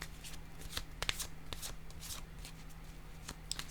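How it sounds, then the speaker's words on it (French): Playing cards are handled and laid down on a table close by, a quiet run of soft flicks, slides and light taps spaced irregularly over a few seconds. "Je vais déposer une carte sur ces deux-là."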